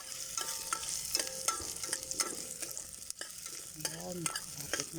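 Garlic and onion sauté in a pan, giving a close, steady sizzle broken by light scraping and stirring clicks.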